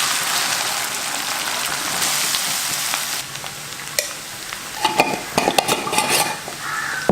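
Cut okra tossed into a hot pan and stir-fried, a loud dense sizzle that settles, then repeated scraping and clattering of a spatula against the pan.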